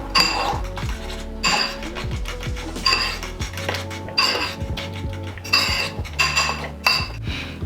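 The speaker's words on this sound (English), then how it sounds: "Then simply whisk it up until all the flour is absorbed." A whisk beats flour and water in a bowl, producing close, busy metallic clinks and rattles against the bowl with an uneven rhythm that runs the whole time, with no talking.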